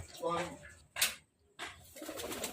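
A young racing pigeon coos nearby in a few soft, throaty bursts with brief quiet gaps between them, faint and close.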